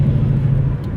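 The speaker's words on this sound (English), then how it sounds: "Maybe we can get a little bit of this exhaust note." A modified Chevrolet Camaro gives a loud, steady low exhaust rumble while driving, close and continuous with no talking.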